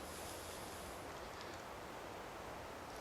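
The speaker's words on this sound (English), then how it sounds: "It is still windy" Wind blowing through a forest at night, a steady broadband rush with no gusting peaks, faint and continuous throughout, with no voices.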